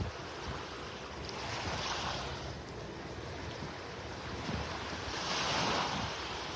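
Ocean surf washes steadily along Vanderbilt Beach in North Naples, Florida, a continuous broad roar of breaking waves mixed with wind noise, with no voices.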